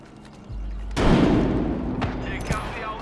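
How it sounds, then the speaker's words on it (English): A frag grenade blast in a video game: a low thump, then a loud booming explosion that trails off as a long rumbling decay, with a few smaller sharp cracks following. "Throwing a frag."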